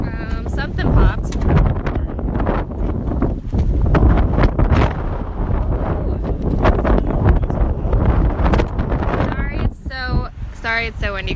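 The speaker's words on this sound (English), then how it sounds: "Sorry, it's so windy, guys." Strong wind buffets the microphone with heavy, continuous rumbling gusts, while a person talks underneath throughout.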